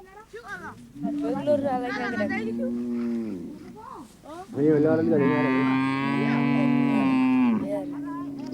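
Maasai herd cattle mooing loudly and close by, two long drawn-out lows with a short pause between them, and other animal sounds faintly around them.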